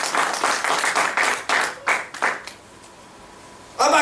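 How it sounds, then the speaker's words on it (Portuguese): A church congregation at a worship service claps together in a dense burst for about two and a half seconds, then the applause thins to a few scattered claps and fades into a quiet room. "Pode aplaudir o Senhor."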